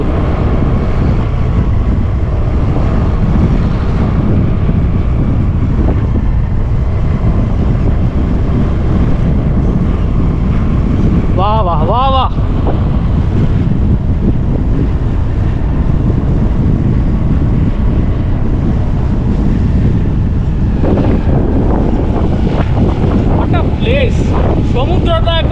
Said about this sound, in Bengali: দেখুন আমি দেখাচ্ছি আপনাদের সমুদ্রটা